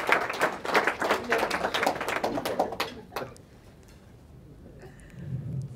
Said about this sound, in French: On l'applaudit très très fort parce que c'est un geste fort.